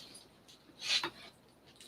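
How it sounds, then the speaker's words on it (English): A single quick sneeze bursts out as a short, breathy hiss, fairly faint and alone against a quiet indoor background. "Just had a little sneezing fit."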